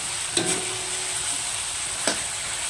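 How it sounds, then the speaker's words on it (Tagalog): Pork and chayote sizzle and crackle steadily in a hot pan, with two brief scraping stirs and no voices, close and continuous. "Ayan guys, gisa-gisahin lang natin to"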